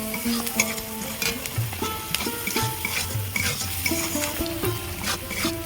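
Chopped onions sizzle in oil in a pan for a Bengali shrimp dopiaza, a utensil scraping and stirring through them in repeated strokes, steady and close with no voices.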